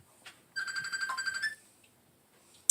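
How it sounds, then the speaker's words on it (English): A phone rings once as a clear electronic tone lasting about a second, heard alone in a quiet room beside a melting container of Van Leeuwen Peppermint Pattie ice cream, followed by a sharp brief click. "And there's a phone call."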